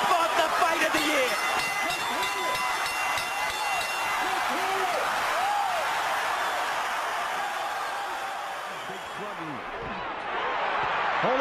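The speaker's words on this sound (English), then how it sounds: "Crowd rises to its feet." A boxing arena crowd at a Holyfield–Tyson fight roars steadily and loudly throughout, a dense wall of cheering with a commentator talking over it.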